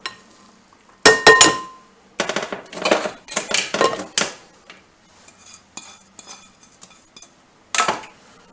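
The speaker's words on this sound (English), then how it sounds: "I'm going to thoroughly mix it with a spatula here" Salmon loaf, broccoli and cauliflower rice being mixed with a spatula in a bowl, giving clattering, scraping bursts in irregular clusters with short pauses between them.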